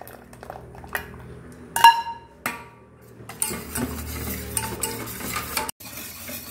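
Hot strained jaggery water is poured into a wheat flour mix and quickly stirred. It starts with a few sharp clinks of a utensil, then gives way to steady, close scraping and mixing sounds.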